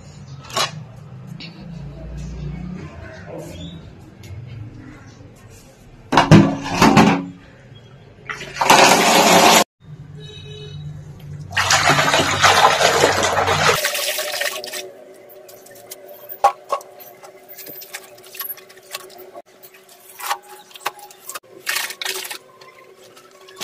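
Water splashes and pours in bursts as clothes are soaked for washing at home, with sloshing and dripping close by, then quieter drips and faint household sounds, a voice speaking intermittently.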